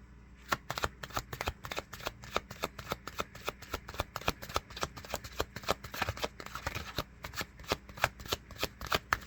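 A deck of cards is shuffled up close in a quick, continuous flutter of riffling snaps with no pauses.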